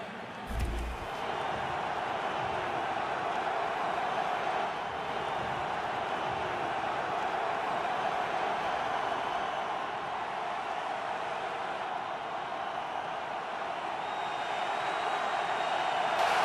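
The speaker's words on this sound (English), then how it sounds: "Crowd back in it." A stadium crowd roars at an NFL wildcard playoff game between the Jets and the Bengals, a dense, steady wall of cheering that holds at full strength for the whole stretch.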